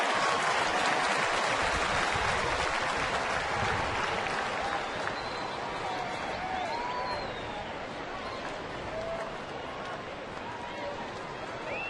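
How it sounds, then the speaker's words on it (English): Baseball stadium crowd cheering for Texas Rangers pitcher Neftali Feliz in 2010, a broad loud roar of applause that swells then eases slightly, with a commentator's voice faintly under it. "And now the crowd getting behind Neftali."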